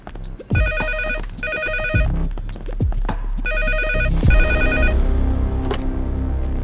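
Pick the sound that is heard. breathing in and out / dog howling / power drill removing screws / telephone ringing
telephone ringing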